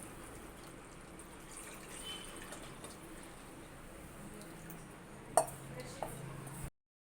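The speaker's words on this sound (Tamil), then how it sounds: "இப்போ வந்து தண்ணியை நம்ம அடுப்பில் சிம்மை வச்சுட்டு" Water is poured into a pot on a stove set to low flame while making vennai puttu, a faint, steady gushing pour with a sharp clink near the end.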